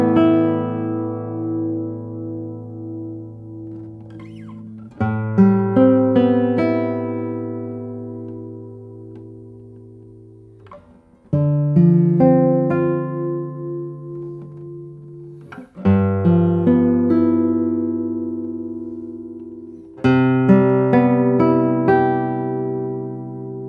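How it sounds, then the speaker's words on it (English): A cedar-top acoustic guitar with Indian rosewood back and sides plays alone at close range, with ringing chords and single notes in phrases struck every few seconds and left to sustain and decay. "It's a very airy sounding guitar, and the response of the guitar is very fast."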